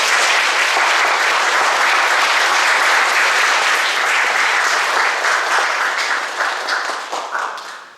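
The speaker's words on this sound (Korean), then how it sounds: "우리 가셔서도 잘 지내시라는 의미에서 마음을 담아서 박수 한번 보내드립니다" A church congregation gives a loud, sustained round of applause for a departing soldier, dense clapping that holds steady then tapers off in the final seconds.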